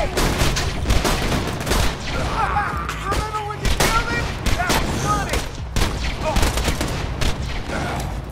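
Gunfire from a slow-bullet weapon in a shooter video game, heavy continuous shots and booms layered densely under people talking.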